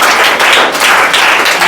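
A classroom of children claps together for a pupil, a dense, loud burst of applause close by that pulses briefly and continues without talk.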